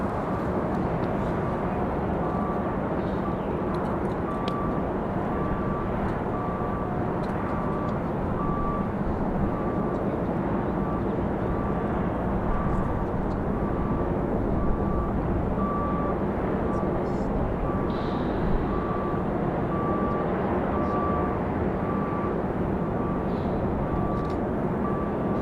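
Frontier Airlines A320neo jet airliner arriving from Boston at Raleigh-Durham airport, a steady broad engine roar sustained throughout with a faint tonal whine, and a voice talking over it.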